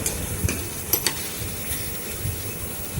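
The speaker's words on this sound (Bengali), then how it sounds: "এভাবে আমি চিকেনটাকে ভালো করে আবার কষাতে থাকবো" Chicken for tawa chicken stir-fries in a pan, sizzling steadily with scattered scraping and clinking of a spatula against the metal, close and moderately loud with no voices.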